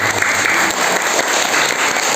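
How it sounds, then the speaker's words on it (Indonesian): A congregation at a Sunday church service applauds, a loud, even stretch of many hands clapping close by that carries on for about two seconds. "kita beri tepuk tangan"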